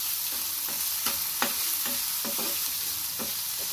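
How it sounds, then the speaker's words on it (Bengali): Chopped potato and water lily stems fry in a pan with a steady close sizzle, punctuated by repeated scraping strokes of a stirring utensil against the pan. "এটাকে ভাজা ভাজা করব।"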